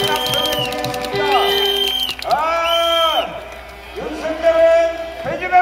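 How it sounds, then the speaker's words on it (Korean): A crowd at a Korean outdoor protest rally gives loud, drawn-out shouts and cheers in rising and falling waves of many voices, with brief gaps between the bursts. "다같이 함성해주겠습니다."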